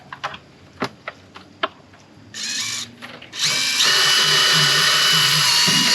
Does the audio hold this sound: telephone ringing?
no